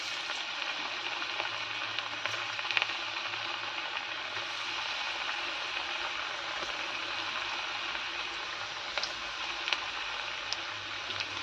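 Ghila pitha batter fries in hot oil, a steady close sizzle with scattered small pops and crackles, moderately loud and continuous, no talking.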